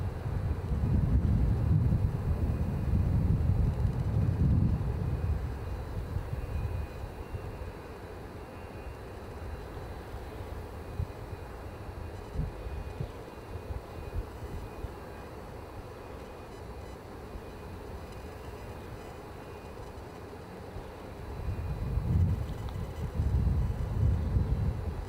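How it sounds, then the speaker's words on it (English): A Loganair Embraer jet taxiing out at Edinburgh Airport, a steady distant engine rumble with wind noise over the microphone, swelling louder at the start and end of a long stretch. "in my foreground I can see Scotland's finest, aka Loganair, taxiing out with their Embraer"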